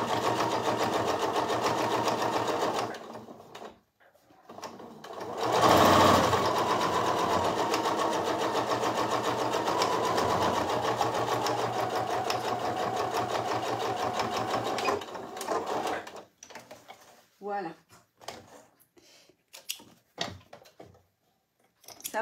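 A sewing machine topstitches velvet in long steady runs, loud and continuous for several seconds, with a brief pause before starting again and trailing off into quieter handling sounds near the end.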